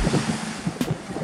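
Strong offshore wind blows across a beach home break on a cool day of about 11 degrees, with small surf on a nearly flat sea; a steady, broad roar of wind buffeting and washing waves, with no voices.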